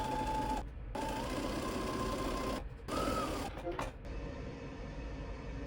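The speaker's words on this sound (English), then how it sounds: "I will sew that on next" Sewing machine stitching a label onto a quilted fabric book sleeve, a fast steady mechanical whir in several bursts separated by brief pauses, close and moderately loud.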